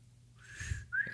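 A man attempts a whistle, producing a faint, breathy tone that rises into a brief thin pitched note at the end, just over a second long and close by.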